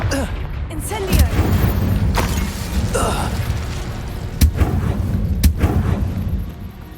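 Casting the Incendio fire spell in the game Hogwarts Legacy gives a constant roaring, rumbling blaze with sharp cracking bursts over a busy layer of combat noise, loud and close throughout.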